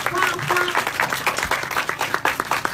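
Steady applause from an assembled crowd at a Buddhist temple groundbreaking ceremony, dense rhythmic clapping with a voice speaking briefly over the start.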